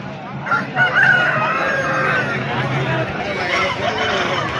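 A rooster crows once at a busy Sunday hen market in Pileru, a drawn-out call rising over a low background of crowd murmur and other birds.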